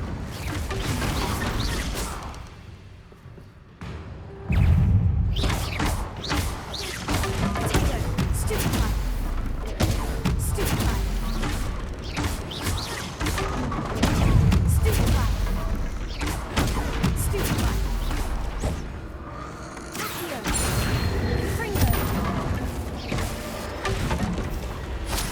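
Confringo explosive spells blast repeatedly in Hogwarts Legacy, with heavy thuds and crashing bursts over busy game sound effects for the whole stretch.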